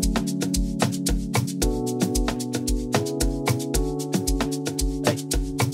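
Sustained synth chords from an Amapiano track made in FL Studio ring steadily beneath a punchy, evenly repeating drum pattern with crisp hits and deep thuds.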